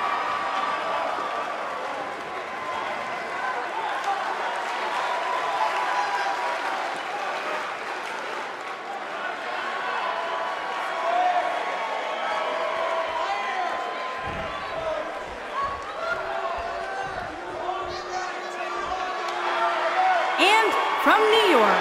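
Arena crowd in the WWE 2K19 wrestling game, a sustained roar of applause and cheering that swells toward the end, with a commentator talking over it.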